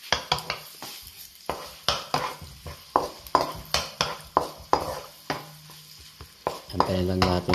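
Minced garlic sizzles in oil in a pan while a utensil scrapes and stirs it in a quick uneven rhythm, close and clear, with a brief voice near the end.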